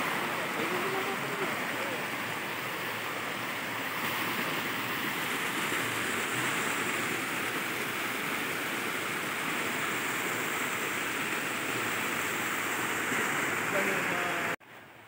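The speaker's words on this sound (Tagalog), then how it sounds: "Nandiyan po yung falls." Steady, full rushing roar of a waterfall heard from nearby, constant and loud for the whole stretch before cutting off abruptly at the end.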